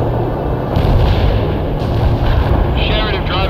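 Artillery shells land in World in Conflict as heavy, booming blasts that roll into one another over a sustained low rumble. The impacts are loud and near, and voices are faintly present.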